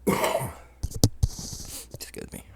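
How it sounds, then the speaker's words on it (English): A single abrupt cough-sneeze bursts out mid-speech, followed by a few short throat sounds, close to the mic, with someone talking before and after. "I had a cough sneeze. I don't know what that was, a cough or a sneeze."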